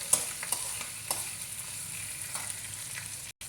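A tempering of ginger sizzles in a pan with turmeric going in, a steady frying hiss broken by light scrapes of stirring, close and alone, cutting out briefly at the end.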